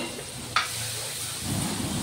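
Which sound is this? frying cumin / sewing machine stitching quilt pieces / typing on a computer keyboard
frying cumin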